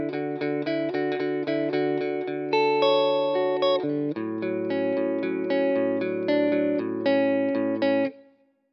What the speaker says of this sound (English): here is my clean tone with my Fender Jazzmaster through my Fender Princeton Reverb